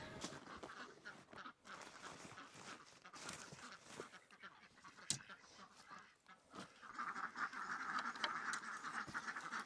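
Ducks quacking, a mix of soft chattering quacks and calls, close and continuous, growing busier and louder toward the end, with no clear talking.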